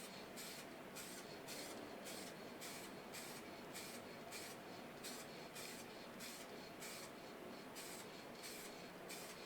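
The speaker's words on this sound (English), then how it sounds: "now I'm going to take my spray paint and I'm just going to go" A spray paint can mists light coats over a taped Les Paul Junior guitar body in a steady rhythm of short hissing bursts, about twenty of them, each separated by a brief gap, close and fairly quiet, with no talking.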